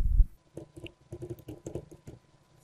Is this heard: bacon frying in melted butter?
no